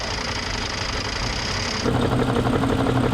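A BMW engine running with its oil drained idles with a dense mechanical clatter, growing louder and rougher with a rapid, rattling knock partway through, close up with no voices.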